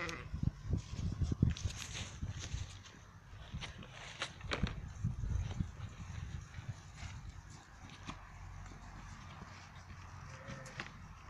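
Sheep bleat at feeding time, with a few loud, close calls near the start and mixed with shuffling and hoof-like knocks, then quieter scattered noise afterward.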